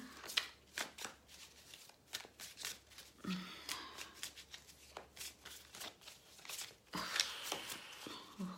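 Tarot cards riffled and shuffled repeatedly in quick crisp bursts, close up, with brief pauses between rounds of shuffling.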